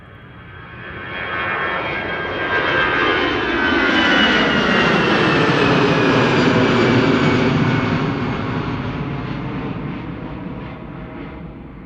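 A jet airliner takes off from the Polderbaan runway at Amsterdam Schiphol, its engine roar swelling from distant to loud and steady, then slowly fading as it climbs away.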